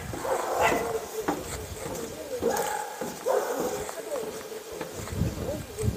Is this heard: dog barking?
yes